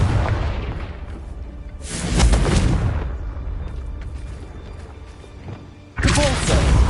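Confringo fire spells burst in the video game Hogwarts Legacy, with booming explosive blasts landing around two and six seconds over a rumbling backdrop of combat noise.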